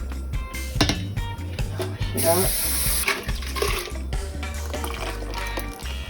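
Liquid runs and splashes steadily into a container, like water from a tap, with kitchen clatter and a low hum underneath.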